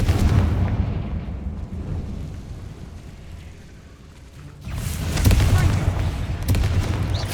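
In the video game Hogwarts Legacy, a Confringo spell fires with a loud, rumbling explosive blast that swells, fades, then bursts again, set against a dense game soundscape.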